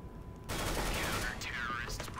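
Rapid gunfire in CS:GO, a dense burst of shots that begins abruptly and keeps going, with voices talking over it.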